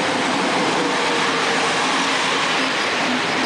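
Train moving on rails, a loud steady rumble with a broad hiss of wheels and carriage noise, heard from on board without a break and with no talk.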